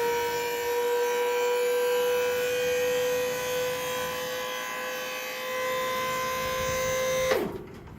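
The hydraulic pump on a 3.6 m tipper trailer runs by remote to raise the tray, a steady electric motor whine holding a strong tone for about seven seconds before cutting off abruptly.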